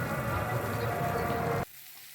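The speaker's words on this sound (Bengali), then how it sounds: "এবার আমি পেঁয়াজটা ভালো করে ভেজে নেব।" Chopped onions sizzling steadily in a frying pan, a close, continuous crackle that stops abruptly near the end.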